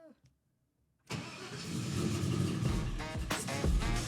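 A heavily modified Jeep being built toward 1000 horsepower, with check-engine faults showing, cranks and fires after about a second of near silence, then holds a loud, rumbling idle right up close.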